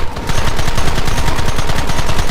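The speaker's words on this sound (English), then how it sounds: "There they are! Open fire!" Rapid gunfire from the video game Red Dead Redemption on Xbox Series S, a dense, continuous volley of overlapping shots with a steady, rattling rhythm that holds loud throughout.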